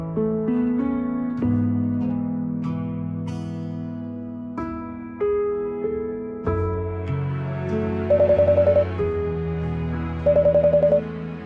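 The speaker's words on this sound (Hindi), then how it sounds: "answer the phone" A telephone rings in two short, trilling bursts near the end, sounding over soft background music.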